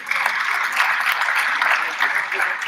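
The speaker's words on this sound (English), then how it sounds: "with the resounding applause. Please let's welcome the Chief Judge of Plateau State, Honorable Justice T." Audience applause at a bar association law week event in Jos, welcoming the chief judge of Plateau State; steady, dense clapping from a crowd, sustained and fairly loud throughout.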